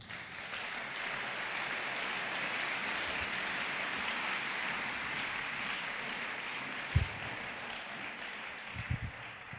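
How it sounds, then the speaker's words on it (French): A church congregation applauding to acclaim Jesus: a steady, moderately distant wash of clapping that carries on evenly, with a couple of louder thumps near the end. "Acclamons Jésus."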